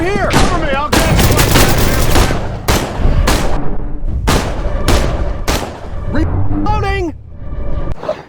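Rapid gunfire bursts from the vampire-hunting video game Dark, loud sharp shots repeating across the scene while game characters talk over the shooting.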